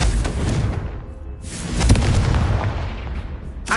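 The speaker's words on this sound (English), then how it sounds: "Confringo." In Hogwarts Legacy, a Confringo fire spell explodes as a deep, rumbling boom, followed by a second blast swelling near the middle, all loud and close with no talking over it.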